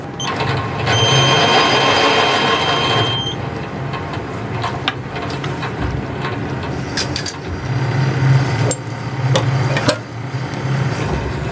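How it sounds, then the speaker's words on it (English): A reamer opens a hole in a steel power hacksaw blade frame to 10mm, giving a steady, loud mechanical whir with a rattling, clattering texture throughout and no talk over it. "Just remains to ream it to 10mm."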